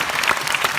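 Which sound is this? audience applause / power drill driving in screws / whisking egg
audience applause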